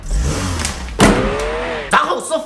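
Engine of a taxi accelerating through Chongqing traffic, its pitch climbing in two rising surges, close and moderately loud, with a voice briefly audible in the cab.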